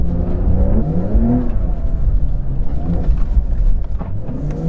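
A Porsche 911 Dakar engine revs hard while driving, its close, loud roar rising and falling through gear changes with a deep rumble underneath.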